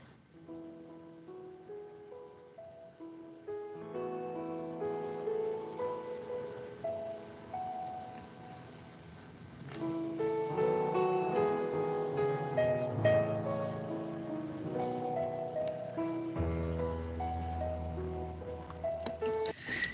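A piano melody built from the digits of the Fibonacci sequence plays single notes and clustered tones at a moderate, uneven pace. It thickens into denser, overlapping notes in the second half and is heard alone.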